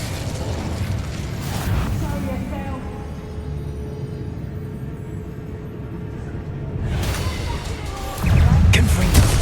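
Blasting-spell explosions (Confringo and Bombarda) in Hogwarts Legacy on PS5, deep rumbling booms that swell loud, fade under a long sustained roar, then return with a heavy low blast at the end; no one speaks over it.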